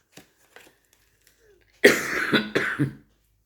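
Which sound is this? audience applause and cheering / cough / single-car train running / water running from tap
cough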